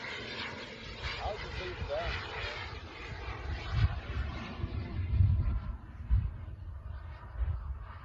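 A model airplane with landing gear down flies slowly overhead at a sundowner fly-in, its engine droning steadily in the distance while people talk nearby.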